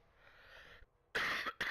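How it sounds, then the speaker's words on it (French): A man coughs twice in quick succession, sharp and close, after a quieter stretch of faint background noise. "Vous allez m'entendre tousser pendant au moins cet épisode."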